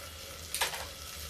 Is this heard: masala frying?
yes